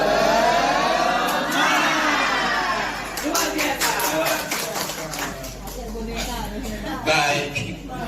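A group of teachers at a school session claps a fast, rhythmic cheer in unison, with sharp bursts of hand claps repeating over several seconds and voices calling out between them.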